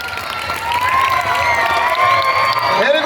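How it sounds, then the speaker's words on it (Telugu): A crowd of schoolchildren and adults at an Independence Day celebration cheers and claps loudly, a steady, dense wash of applause and shouting that fills the whole stretch without a break. "గట్టిగా చెప్పట్లే పాప"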